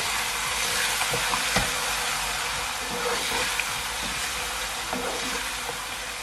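Ginger and garlic paste frying with onions over raised heat for a mutton curry, a loud continuous sizzle with a few faint stirring knocks, close and without talk.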